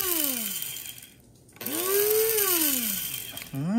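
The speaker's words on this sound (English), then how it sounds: "Sichuan peppers. Let's grind that up." Electric spice grinder whirring through Sichuan peppercorns, loud motor pitch sweeping down, pausing briefly, then revving up again and dropping, with a short restart at the end; no talking.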